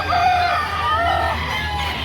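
A Lemon Sweater gamefowl rooster, about two years old, gives a drawn-out crow at a chicken market in Lipa City, Batangas, loud and close over steady background noise.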